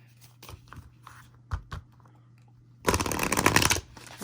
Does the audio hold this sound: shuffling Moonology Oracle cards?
yes